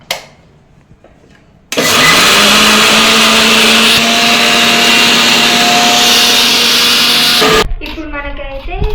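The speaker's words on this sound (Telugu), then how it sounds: "ఇక్కడ ఇప్పుడు దీన్ని మనము మిక్సీ పట్టుకోవాలి." An electric mixer grinder whirs loudly for about six seconds, grinding garlic and green chillies, then cuts off abruptly; quiet kitchen sounds come before it and a voice follows after.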